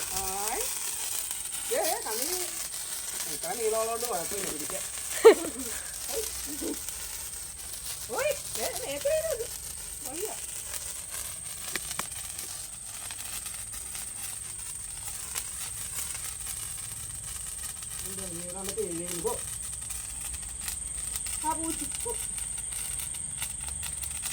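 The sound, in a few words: sparklers (kambithiri) being lit and burning at a birthday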